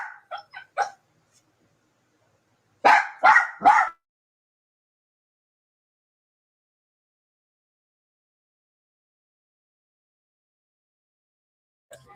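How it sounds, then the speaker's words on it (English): An indoor dog gives a few quick barks, pauses, then lets out a louder cluster of three close barks before a long stretch of silence. "Now all of a sudden he wants to bark."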